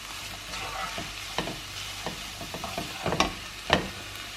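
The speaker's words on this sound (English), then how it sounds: "We're going to add in our beef and give that a stir" Beef and vegetables stir-fry in a pan under a soft, steady sizzle. Repeated scraping and clacking stir strokes grow sharper toward the end. No one speaks.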